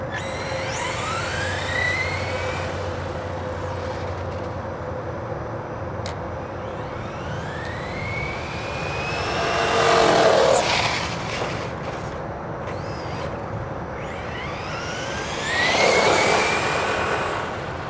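A brushless Traxxas Slash Baja Bug RC car on a Venom 5000 mAh LiPo battery drives past, its motor whine rising and falling in pitch, with the slipper clutch slipping and two louder passes close by.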